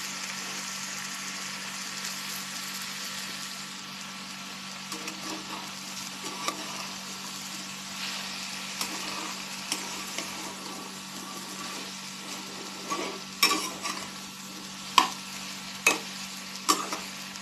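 Okra cooks over a low gas flame with a steady, soft sizzle, while a utensil stirring the pan adds a few sharp scrapes and taps near the end.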